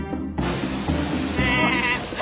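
A goat bleats loudly and continuously in a children's puppet theatre show, a wavering, nasal cry that holds for about two seconds with no talk over it.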